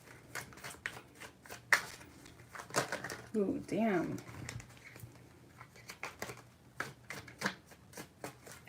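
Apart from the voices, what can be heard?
shuffling tarot cards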